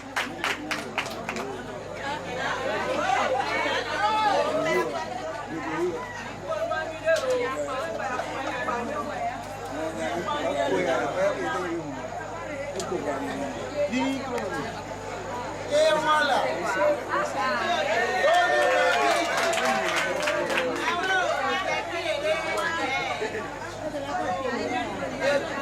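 A large crowd at an outdoor ceremony honouring a traditional king roars with steady, dense chatter and shouting, with a few bursts of clapping rising through the din near the end.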